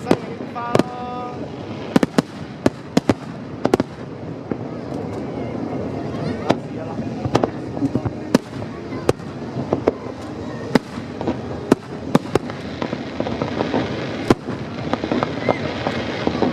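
Fireworks burst over and over at the Putrajaya International Fireworks Competition, each sharp bang or crackle standing out above the steady murmur of a crowd talking nearby.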